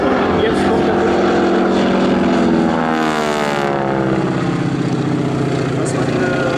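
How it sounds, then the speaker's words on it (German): A North American T6 flies past at an airshow at Gelnhausen airfield, a loud, sustained radial-engine drone whose pitch sweeps downward as it passes overhead. "Das ist der Motor und jetzt kommt der Motor."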